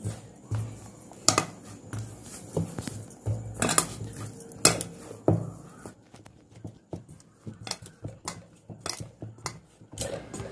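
Flour and semolina dough being kneaded by hand with hot water in a bowl, giving soft irregular squelches and slaps punctuated by sharp clinks of a utensil against the bowl, close and moderately loud with no talking.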